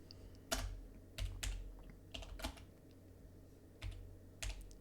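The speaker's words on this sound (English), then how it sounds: "Awesome typing skills." Quiet keyboard typing, scattered keystrokes coming in small bursts with pauses between, close to the microphone and no talking.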